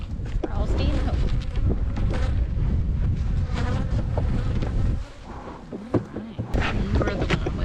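Wind gusts through a cold bee yard, buffeting the microphone in a rough continuous roar, with the buzz of bees and a person talking underneath and a brief lull partway through.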